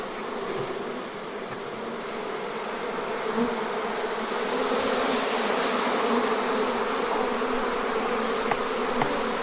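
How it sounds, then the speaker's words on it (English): A dense, steady hum of a swarm of honey bees buzzing together, continuous and fairly loud throughout, with no talking. "That's a lot of bees."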